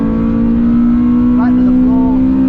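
Honda Civic FN2 Type R engine pulling hard at full throttle on a race track, a loud steady drone that holds close and constant throughout, with someone talking over it.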